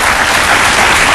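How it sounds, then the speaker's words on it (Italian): Dense, loud applause from an Italian theatre audience, steady clapping filling a brief stretch with no pause. "facciamo ancora un applauso"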